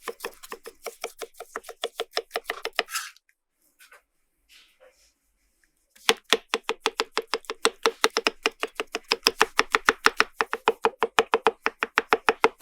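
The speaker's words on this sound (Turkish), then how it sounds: "Domatesi küçük küpler halinde doğrayın ve kaseye koyun." A knife chops rapidly on a cutting board in quick, even strokes, pauses for a few seconds, then resumes dicing tomato into small cubes at a steady fast rhythm.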